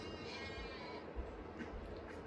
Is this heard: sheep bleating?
yes